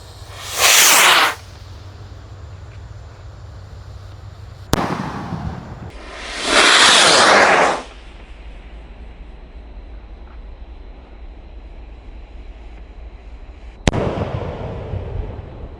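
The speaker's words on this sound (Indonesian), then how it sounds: "Roket Mars siap meluncur." A Mars Roman Candle firework fires three times outdoors, each launch a loud hissing whoosh lasting about a second, with sharp bangs near the fifth and fourteenth seconds over a steady background rumble.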